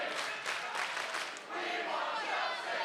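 A wrestling arena crowd in Adelaide roars and cheers in a dense, continuous wash of voices and shouts that swells and dips briefly.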